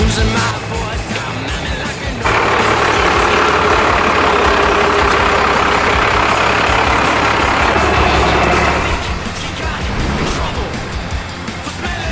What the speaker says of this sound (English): Now behind me was Lucas in his TD42 Series 4 dual cab chopped Patrol.